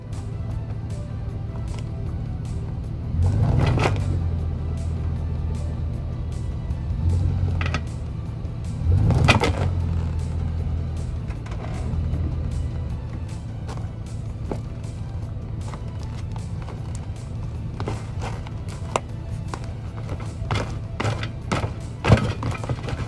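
A pickup truck in four-wheel drive idles and creeps onto a board to break a tire bead, with a steady low engine hum, two heavy thumping surges a few seconds apart and a few sharp knocks near the end.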